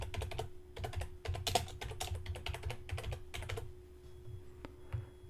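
Rapid typing on a computer keyboard while building a WordPress website page, a quick run of close, crisp key clicks that thins out into a few scattered taps toward the end.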